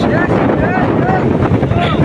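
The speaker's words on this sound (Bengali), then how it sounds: "প্রচুর বাতাস" Loud, steady wind buffets the microphone outdoors in a village during monsoon-season fishing, with a constant roaring rush, heavy and close throughout.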